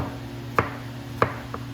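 A knife chops ingredients for potato salad on a cutting board, two crisp, moderately close thwacks about half a second apart, then a softer third tap, over a steady low hum.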